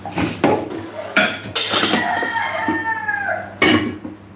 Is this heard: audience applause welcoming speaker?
no